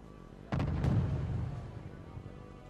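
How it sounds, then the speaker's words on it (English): Artillery fire in the real-time strategy game Wargame Red Dragon, a single heavy boom with a quick follow-up blast that rolls out into a fading rumble, loud and close with no voices. "And now we've got some artillery being fired,"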